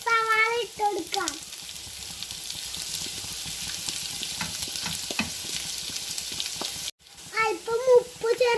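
Onions frying in a pan with green chilli and curry leaves while being stirred for samosa filling, a steady close sizzle with scraping stirs, broken by a short pause, with a voice speaking at the start and end.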